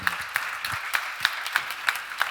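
Applause from a church congregation during a sermon, a thin, light patter with a few sharper claps standing out, moderately distant and fairly soft.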